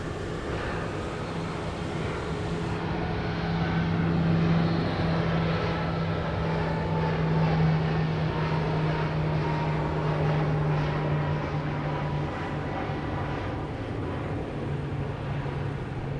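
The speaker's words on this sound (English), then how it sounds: "This is a Beech C-90 King Air going to Fort Smith, Arkansas." A Beech C-90 King Air turboprop at Dallas Love Field, a steady loud engine drone with a sustained low hum that holds for the whole stretch, with no talking.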